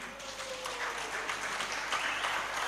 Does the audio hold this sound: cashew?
no